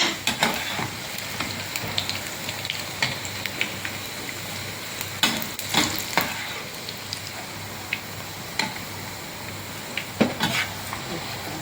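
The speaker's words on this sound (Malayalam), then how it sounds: "അപ്പോൾ നമ്മുടെ വഴുതനങ്ങയൊക്കെ പൊരിഞ്ഞിട്ടുണ്ട്." Eggplant frying in oil in a pan, a steady close sizzle broken by repeated clinks and scrapes of a spoon stirring and lifting pieces, with no talk.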